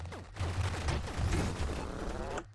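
Weapons in the space shooter Nova Drift fire a dense stream of rapid pew-like shots with descending chirps, overlapping in a busy, steady barrage that cuts off abruptly at the end.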